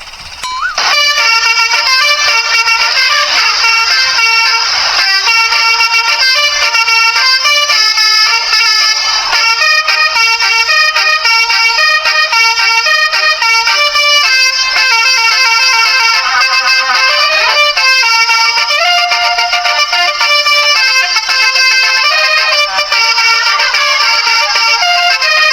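A loud telolet horn on a mini car plays a continuous bright, musical melody of shifting tones, sustained and close for about twenty-five seconds with no talk over it.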